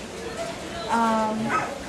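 A smooth-haired fox terrier at a dog show gives a short, nearby yip or bark that rises briefly over a murmur of voices and background chatter.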